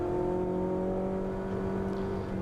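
A Lotus race car at Dijon in a 2015 Lotus Cup Europe race, the driver lifting off the throttle mid-corner: a steady, loud droning engine note with strong tonal hum that sags slightly, no talk.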